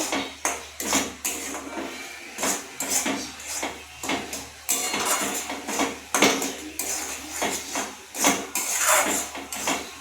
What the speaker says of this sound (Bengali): আমুল দুধ দিয়ে এবার নাড়াচাড়া ভালো করে নেব